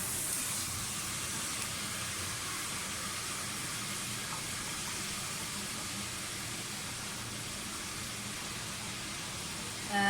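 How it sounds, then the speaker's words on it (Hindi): Mutton frying in a pan with fresh garlic-ginger paste gives a steady, even sizzle and hiss that holds for about ten seconds, fairly soft and with no pauses or talk. "अच्छी तरह से भूनें।"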